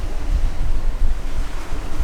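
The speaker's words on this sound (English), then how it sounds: "Obviously at the back of my head there's quite big waves behind us." Big Mediterranean sea waves around a tiny sailing catamaran, a continuous close rush of surf heavily mixed with gusting wind buffeting the microphone, no talking.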